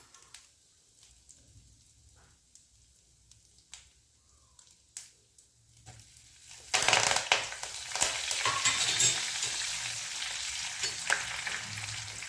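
Curry leaves and asafoetida hit hot oil for a bitter gourd (karela) dish with a sudden loud sizzle after scattered quiet clicks and stirring sounds, and the frying hiss then stays steady and close.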